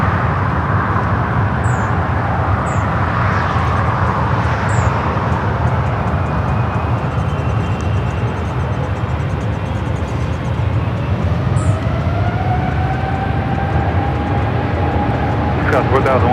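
Air France heavy jet airliner on its takeoff roll at LAX, a loud, steady engine roar with a rising whine building over the run, alongside radio chatter.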